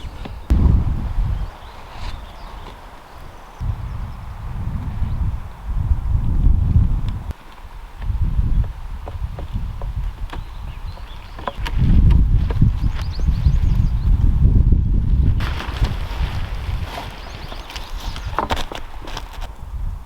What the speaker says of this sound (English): There was not really a gust of wind the entire night until just a few minutes ago